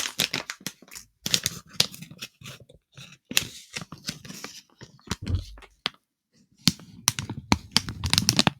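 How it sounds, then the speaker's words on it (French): An ornate, stylised pair of scissors being handled, giving a string of sharp clicks and metallic snips in irregular bursts, close and crisp, with a brief pause midway and no talking. "J'ai acheté une jolie paire de ciseaux, vraiment très jolie, très stylisée et travaillée."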